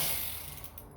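A ratcheting tool backing out quarter-inch screws on a 2020 Ram EcoDiesel gives a brief, soft run of fine mechanical clicks close by, with no voices.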